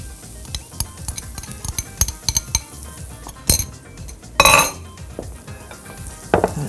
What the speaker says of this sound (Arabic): هنقلب السلطة